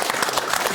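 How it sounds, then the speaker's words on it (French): Dense audience applause for a cartoonist at a French talk-show evening, a brief burst of many hands clapping close and loud. "Je vous demande un tonnerre d'applaudissements pour Ignace, le dessinateur,"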